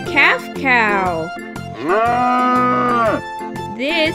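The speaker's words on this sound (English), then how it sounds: "This is a black and white cow." A black and white cow moos several times in close, loud, drawn-out calls, the longest in the middle, given as a toy animal sound effect over a rhythmic musical backing.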